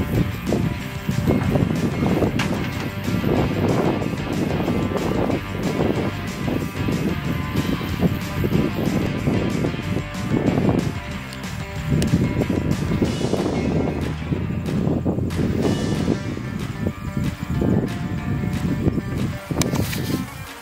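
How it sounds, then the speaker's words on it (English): Evening wind blows outdoors on public hunting ground near a pond, a steady rumbling gusting noise buffeting the microphone throughout. "Some wind tonight."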